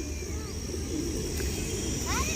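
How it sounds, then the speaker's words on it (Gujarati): Pigeons cooing in a crowded flock, soft repeated coos and a few chirps heard faintly over steady background noise and a distant hum. "કેટલા બધા કબૂતર છે જુઓ."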